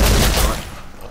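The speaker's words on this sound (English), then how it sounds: "Gunshots." A burst of gunfire in the survival video game Rust, loud, dense and rapid at first, then fading into a rumbling tail within about a second.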